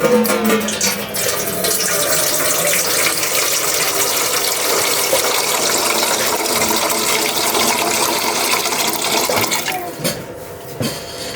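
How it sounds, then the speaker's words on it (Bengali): Water pours steadily into a cooking pot in a home kitchen for chicken pasta, a loud continuous gushing for about ten seconds that then cuts off and fades. "পরিমাণ মতো পানি দিয়ে দিব।"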